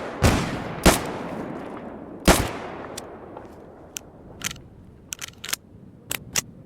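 Sporadic gunshots in the S.T.A.L.K.E.R. Gamma video game: several loud single cracks early on with decaying tails, then quieter, sharper shots spaced irregularly, no talking.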